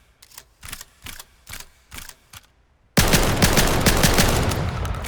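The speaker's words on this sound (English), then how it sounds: "It's a shotgun, it's going to have a ton of recoil." Pump-action shotgun fired in the video game Vail, a run of separate sharp blasts spaced evenly with heavy recoil, then a sudden dense, sustained roar of louder gunfire or noise filling the last two seconds.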